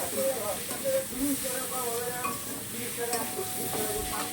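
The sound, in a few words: stirring and frying onions in pan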